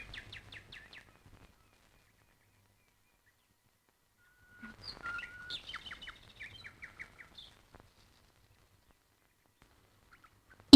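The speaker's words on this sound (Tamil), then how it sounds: "இங்க இருந்தா பறவைங்க பறக்கிறது அதுங்க கத்துறது அதெல்லாம் பாத்துக்கிட்டே சாப்பிட்டா" Bird calls in two bursts, a few chirps early on, then after a pause a cluster of brighter calls and trills, faint and sparse against near silence.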